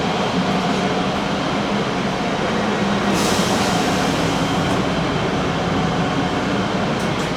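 A Metro train sits at a station with a loud, steady rumble and hiss of rail noise, and no voices over it.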